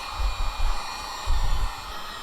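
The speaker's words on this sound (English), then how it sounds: "Now I'm gonna heat shrink it." Heat gun blowing hot air to shrink heat shrink tubing on air compressor wiring in a Nissan Xterra, a steady close whooshing hiss with low rumbling swells from handling.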